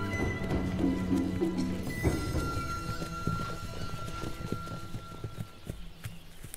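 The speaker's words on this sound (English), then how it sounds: "Koniks are a primeval race of Polish ponies." Konik ponies, a primeval Polish breed, moving on the Baltic coast, their hooves giving irregular clip-clop thuds against steady outdoor background noise, with a faint whinny-like tone early on.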